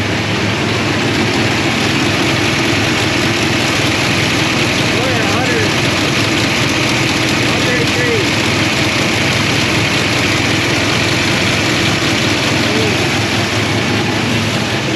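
A 572 big-block V8 idles in a 1955 Chevrolet Bel Air, a loud continuous low rumble holding steady throughout, with a voice faintly under it.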